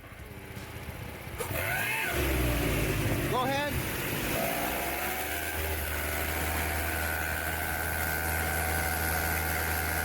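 A Buick engine runs steadily at idle after exhaust work and carries an odd exhaust leak noise, a loud continuous rumble with a brief rising whine partway through; a voice speaks briefly.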